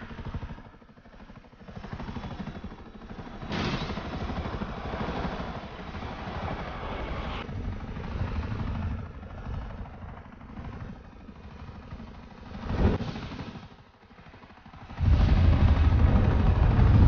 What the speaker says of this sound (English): Helicopters up in the air at all times, just in case something happens.